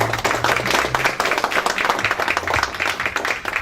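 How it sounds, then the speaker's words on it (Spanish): An audience gives an agricultural engineer a round of applause, steady close clapping from a modest group that carries on evenly for a few seconds. "Un aplauso para el ingeniero, por favor."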